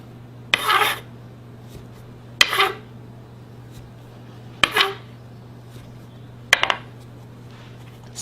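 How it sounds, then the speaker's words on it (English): A metal biscuit cutter presses through Southern biscuit dough in four short, separate scraping cuts, each a brief rasp at close range over a steady low hum, with quiet pauses between. "Now we're just going to cut the biscuits out."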